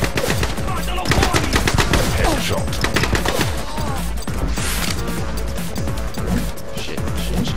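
Rapid bursts of video game gunfire in the shooter The Club, set in the red canals of Venice, with dense automatic fire and sharp crashes filling the whole stretch, loud and close, with someone talking over it.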